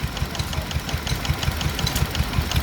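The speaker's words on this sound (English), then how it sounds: "Here we have yet another Wolseley WD2 engine" A Wolseley WD2 stationary engine drives a water pump at an outdoor Victorian show, running with a steady, fast, evenly spaced thumping beat, loud and close with no talk.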